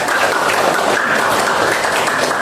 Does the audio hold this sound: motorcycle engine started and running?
no